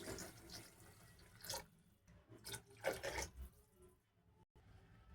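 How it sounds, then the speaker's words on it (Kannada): Two glasses of water are poured into a cooking pot holding basmati rice for methi pulao, giving splashing, gurgling bursts in separate pours with brief pauses between them, close and fairly quiet, with no talking. "2 ಗ್ಲಾಸ್ ನೀರು ಹಾಕ್ಕೊತಾ ಇದ್ದೀನಿ."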